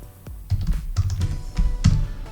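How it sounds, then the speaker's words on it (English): Keystrokes on a computer keyboard as a command is typed into an Ubuntu terminal, a quick uneven run of close, distinct taps. "So just type node-v"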